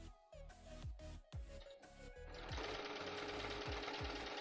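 A sewing machine stitching flat felled seams on undergarments starts and stops in short bursts, then runs in a fast continuous whir, close and fairly quiet.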